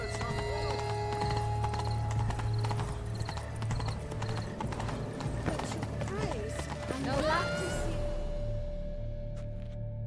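Galloping horse in The Witcher 3: Blood and Wine, hooves beating fast and close with neighs and snorts, then a rider's shout before the hoofbeats fade into quieter game ambience.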